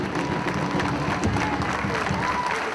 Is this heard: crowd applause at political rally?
yes